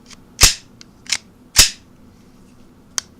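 A .22 Long Rifle 1911 pistol fires four sharp, close shots. Three come in quick succession and a fainter one follows after a pause.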